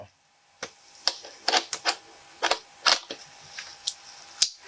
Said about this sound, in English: Once I hear the clicking sound, I know that it's properly on, properly attached.